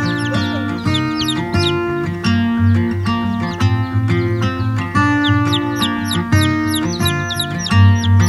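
A group of young layer chicks, seventeen per batch, making rapid, repeated high chirps and clucks close to the microphone over a busy, droning background.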